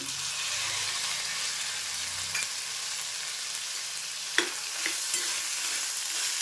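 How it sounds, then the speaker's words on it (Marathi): Green peas and carrots sauté in a pan with a steady bright sizzle, broken by a few soft clicks of a spoon stirring against the metal. "एक वाटीभर परत बी हे व्यवस्थित परतून घेते"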